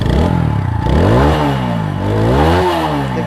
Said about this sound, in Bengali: First of all start. ওকে, বাইকের গর্জন কিন্তু ওয়াও